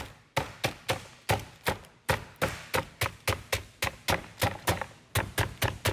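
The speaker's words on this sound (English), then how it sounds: "I'm just flattening it a little bit so that it's even, it'll cook even" A steak pounded flat on a board to an even thickness, about two dozen sharp thuds in a quick, fairly regular rhythm with brief pauses, close and crisp with no talk.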